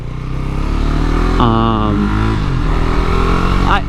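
A KTM Duke 390 motorcycle engine revs hard during a third-gear wheelie, a loud close buzzing roar that climbs sharply in pitch midway, then settles and rises again near the end.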